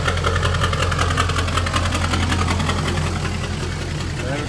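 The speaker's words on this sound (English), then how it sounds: "Well, these diesels warming up." Several diesel engines idle steadily at close range while warming up, a constant low rumble with a faint knocking pulse and no pauses throughout.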